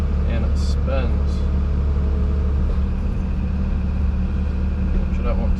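A 20-tonne digger lifts a water tank out of the ground, its diesel engine a loud, steady low rumble close by, with someone talking over it.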